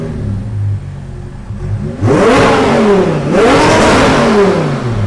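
A 1500hp twin-turbo Audi R8 rumbles at idle, then two loud, sweeping revs rise and fall close by, each engine note climbing sharply before dropping back.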